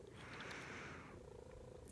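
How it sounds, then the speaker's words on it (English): A pet cat purrs softly and steadily while settled on a person's lap indoors, a faint, close rumbling purr with a small rustle at the end. "my cat hopped onto my lap and she distracted me a little bit from my train of thought"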